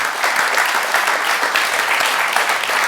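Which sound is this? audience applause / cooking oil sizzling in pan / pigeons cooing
audience applause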